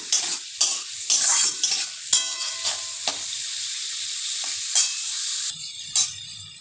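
Carrots are stir-fried in a pan as vegetables for fried rice. There is a continuous close sizzle with repeated scraping and clattering strokes from the stirring utensil, which fade toward a quieter hiss.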